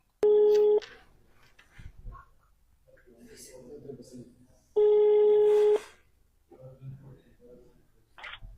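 Two long telephone ringback tones sound about four seconds apart, with quieter background noise and faint rustling in between.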